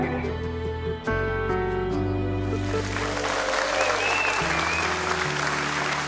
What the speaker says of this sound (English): Give him a big cheer.